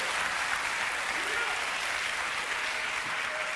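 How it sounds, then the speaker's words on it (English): Church audience clapping during a preached teaching, a sustained, fairly soft patter of applause heard from a distance, steady throughout, with a faint voice underneath. "If I'm making sense, clap your hand."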